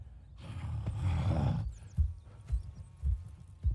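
Horses in the Red Dead Redemption 2 video game: a roaring whinny up front, then several sharp clip-clop hoof thuds and snorts spaced irregularly, fairly close, with no talking.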